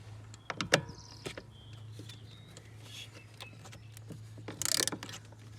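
Screws being undone from an MG Rover heater blower: faint clicks and short whirring, ratcheting bursts over a low steady hum, close and fairly quiet.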